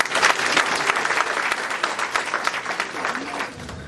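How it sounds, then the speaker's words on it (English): A crowd at a Thornton Township public gathering breaks into dense, lively applause, with many hands clapping at once. The clapping is close and loud, then begins to fade toward the end. "So give yourselves a round of applause."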